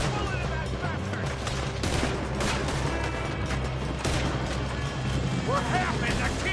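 Rapid gunshots and rattling volleys crack out amid a dense battle din in Red Dead Redemption 2, loud and continuous, with voices shouting over the shooting.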